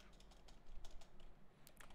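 Quick bursts of keystrokes on a computer keyboard, close and fairly soft, with uneven rhythm and no talking.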